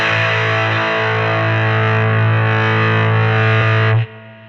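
Electric guitar through a Kazrog Airline V15 amp plugin with the attack turned up for heavy fuzz, a thick sustained distorted chord held loud and close, then cut off suddenly near the end.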